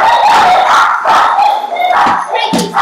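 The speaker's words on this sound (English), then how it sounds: "There's dogs barking." Several dogs barking and yipping outdoors at moderate distance, a rough overlapping series of barks and whines running throughout.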